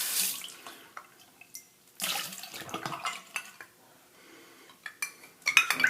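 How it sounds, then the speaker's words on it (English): Water splashes and trickles while a metal kettle is refilled during a wet shave with a Gillette Toggle razor, with clinks and clatter in irregular bursts close by and no talk. "Put a little more water in my kettle here just in case I need to re-water this"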